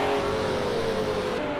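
A Renault RS 01 race car's engine in Project Cars 2 holds a loud, steady high whine that sags slightly in pitch, close and alone.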